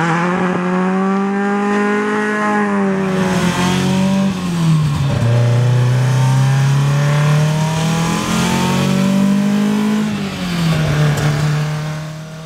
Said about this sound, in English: The Datsun engines sound awesome.